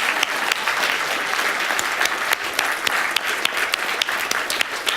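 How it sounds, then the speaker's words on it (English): Sustained audience applause for the entrants at a science communication competition final, dense and loud clapping that holds steady for several seconds without talk. "Just another round of applause for our entrants,"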